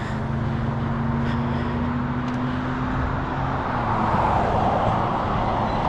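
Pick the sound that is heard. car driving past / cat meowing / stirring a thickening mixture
car driving past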